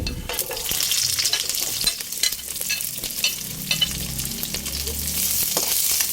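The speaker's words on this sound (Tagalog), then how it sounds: "Ayan, lalagay ko na po yung sibuyas." Onions frying in oil with golden garlic, stirred repeatedly, giving a steady sizzle punctuated by frequent sharp scraping and clattering strokes of a utensil, close and fairly loud, with no talking.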